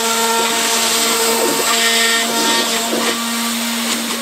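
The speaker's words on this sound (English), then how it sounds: "You can hear the CNC machine is struggling a bit." A loud CNC machine cutting MDF whines steadily with a constant high pitch, its tone dipping and straining repeatedly as it struggles through the material.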